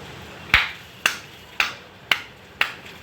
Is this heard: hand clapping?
yes